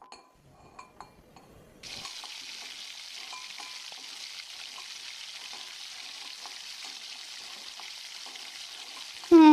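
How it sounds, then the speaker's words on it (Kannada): Mutton set to boil in a pot with an onion tempering, salt, chilli and turmeric, giving a steady, close hiss of sizzling and bubbling that rises sharply after a quieter start, with no one talking. "ಇದು ಈರುಳ್ಳಿ ಒಗ್ಗರಣೆ ಕೊಟ್ಟು ಉಪ್ಪು ಖಾರ ಅರಿಶಿನ ಹಾಕಿ ಮಟನ್ ಕುದಿಯಾಕೆ ಇಟ್ಟಿನಿ"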